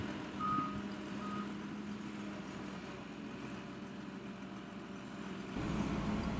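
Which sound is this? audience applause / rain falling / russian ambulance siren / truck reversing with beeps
truck reversing with beeps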